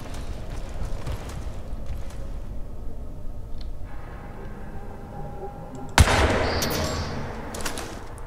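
Weapons fired in a Nanosuit during a Crysis 3 tutorial: scattered gunshots over a busy game background, with one sharp, loud blast around the latter part followed by a louder sustained wash of noise.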